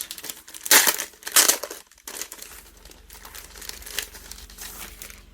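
Paper crinkling while unboxing a Hobonichi 2023 journal: loud, close rustling and crumpling bursts, strongest early on, then softer continuous handling of the paper, with no talk.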